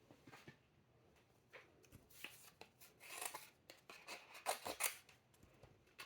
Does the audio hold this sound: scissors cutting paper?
yes